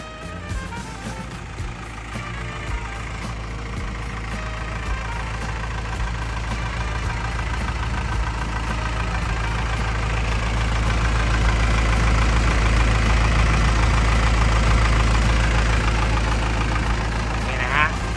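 A Komatsu WA100-5 wheel loader's four-cylinder turbo diesel idles close by, a steady low rumble with a faint knocking texture that grows slightly louder midway through.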